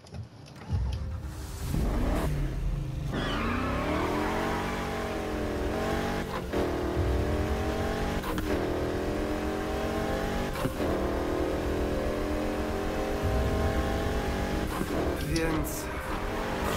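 A car in the Need for Speed Heat video game accelerates and revs hard, its engine note climbing repeatedly through gear changes, loud and sustained while people talk over it.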